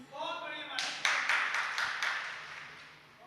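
An audience at a religious sermon breaks into a short burst of clapping right after a voice, the applause quickly thinning and fading into the hall's echo.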